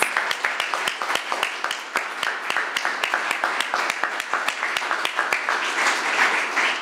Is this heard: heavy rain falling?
no